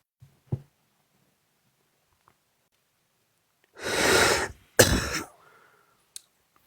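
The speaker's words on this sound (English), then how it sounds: "I have to cough." A person coughs twice in quick succession, harsh and close, against near silence broken by a few small clicks and knocks.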